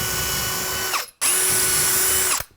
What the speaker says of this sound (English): I'm going to pre-drill this